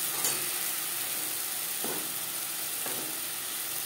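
Spices sizzling in oil with onion and tomato in a pan, a steady bright frying hiss with a few soft stirring scrapes, close and continuous with no voices.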